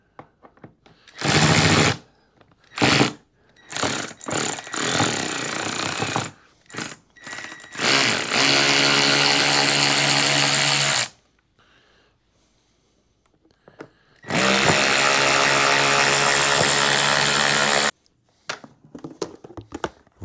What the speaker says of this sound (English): And then we'll pull all these screws out.